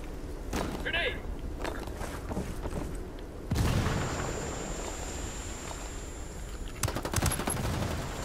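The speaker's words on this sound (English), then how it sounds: "Grenade!" A grenade blast and rattling gunfire ring out in the shooter video game Ghost War: scattered shots, then a sudden loud boom followed by a lingering rumble and more firing, with voices in the mix.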